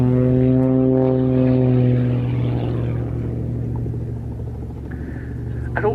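A propeller aerobatic aircraft climbing on knife edge at an evening aviation show, its engine drone strong and steady with a tonal whine that gradually recedes and softens over six seconds.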